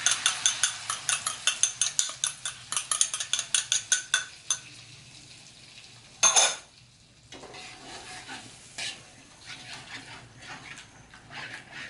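Chili and melted salted egg stirred in a pan with a utensil, giving a quick run of sharp rhythmic scraping clicks, then a louder clatter and softer scattered stirring noises, close up with no talking.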